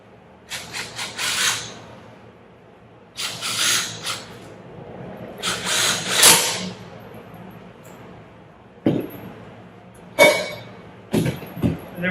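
Metal parts of a Wilden air-operated pump's air valve being fitted and tightened, with bursts of rubbing, rasping and clinking scrapes in several short clusters, close by with no talk.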